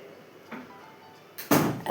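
A door swings shut indoors with a loud thud near the end, after quieter rustling and a faint earlier knock.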